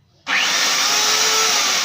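A 2000-watt electric saw starts abruptly and runs loud and steady at full speed, a high whining motor tone with no voices over it.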